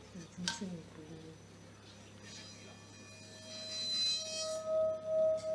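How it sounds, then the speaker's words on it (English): A sustained metallic ringing tone with steady high overtones swells and pulses gently, preceded by a faint clink and some quiet background voices. "Tibetan singing bowl."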